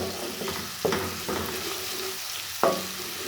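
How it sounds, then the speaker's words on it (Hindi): Garlic stirred into saag frying in a pan, with a steady soft sizzle broken by a few scraping stirs of a spoon, close and moderately loud, no voices. "तो जनाब लहसुन डाल के इसको मैं अच्छे से मिक्स कर देती हूँ"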